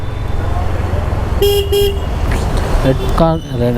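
Night road traffic with car horns honking, several short toots and a longer blast near the end over a steady engine rumble, close by.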